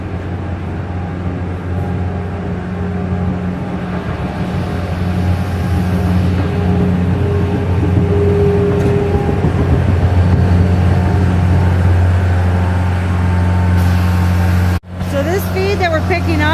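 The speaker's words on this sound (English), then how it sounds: "That's what we're doing right now with the skid loader." A skid loader works steadily in a cow barn, its engine a continuous low drone with a constant hum running through, broken by a brief sharp clatter near the end, with talk heard over it.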